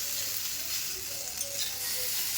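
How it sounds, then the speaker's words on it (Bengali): Potatoes frying in a pan give an even, close sizzle that holds steady throughout with faint crackles and no speech. "আলু ভাজা হচ্ছে"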